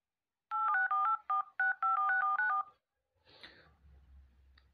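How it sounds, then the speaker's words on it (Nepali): A telephone keypad beeps out a number as a quick run of about a dozen clear two-tone presses with short gaps between them. After that comes a brief rustle and a low hum. "आइडिया मनोज अंकललाई कल गर्छु"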